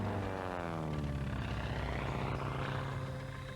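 A Granville Brothers GBR-2 replica racing airplane at the EAA Oshkosh airshow, its radial engine and propeller droning loudly and steadily with a slowly shifting pitch as it passes, alone without voices.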